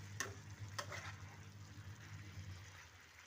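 Mixed vegetables frying in a pan for a five-spice vegetable curry, a soft steady sizzle with a couple of brief stirring scrapes near the start, heard close and fairly quiet.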